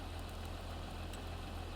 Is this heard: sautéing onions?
no